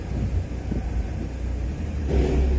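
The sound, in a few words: car being driven onto brake tester rollers at vehicle inspection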